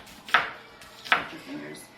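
Two crisp knife chops cutting through onion on a board, a pair of sharp strikes spaced about a second apart, close and clear, with quiet room tone between and no speech over them.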